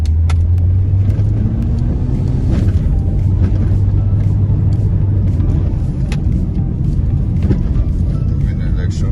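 Vehicles carrying election materials in Enugu State during the 2023 election rumble past close by, a steady low engine drone with a humming tone and scattered clicks, with voices in the background.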